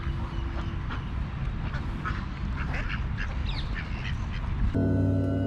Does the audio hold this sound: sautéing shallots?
no